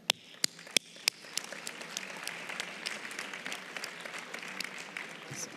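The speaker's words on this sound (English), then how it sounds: "let's give him a warm applause" Applause at a UNWTO General Assembly session as a dignitary is welcomed on stage, opening with a few sharp separate claps that swell into steady, moderately loud audience clapping.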